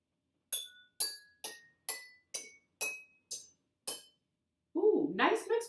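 Water-filled drinking glasses used as a xylophone and struck with light skewers, wood on one end and metal on the other. Eight bright, ringing clinks come at an even pace, then a voice speaks briefly.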